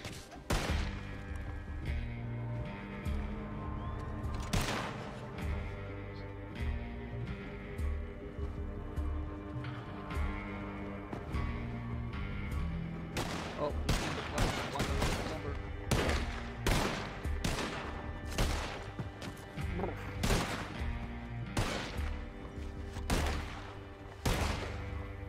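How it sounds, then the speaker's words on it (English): Gunfire in Red Dead Redemption 2 roleplay: loud, repeated sharp shots in irregular bursts and volleys over continuous game background noise, with occasional talk in the mix. "Be really hard to sleep with all this gunfire"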